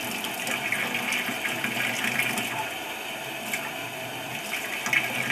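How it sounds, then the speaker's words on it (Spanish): A tap opened over a ping pong ball sends a steady stream of water splashing, a continuous, even rushing hiss with no speech. "Y vamos a abrir la llave."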